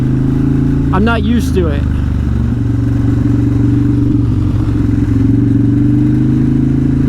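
A Harley Fat Bob motorcycle rumbles steadily while riding, a loud low droning engine with wind noise throughout, and someone talks over it briefly.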